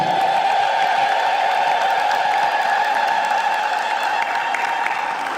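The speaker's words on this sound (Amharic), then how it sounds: "እስቲ እልል በሉ" A church congregation ululates together in sustained, shrill group trilling that holds steadily loud and dense throughout, with no break or spoken words.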